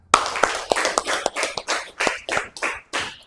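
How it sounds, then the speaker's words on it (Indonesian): A round of hand claps, about a dozen sharp slaps in a steady quick rhythm, close and fairly loud with no talking. "Berikan tepuk tangan"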